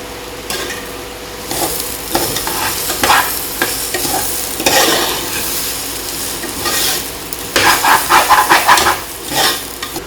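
Curry leaves and coriander leaves fry loudly over a full gas flame for veg biriyani, with a spoon stirring and scraping through the crackling sizzle in bursts.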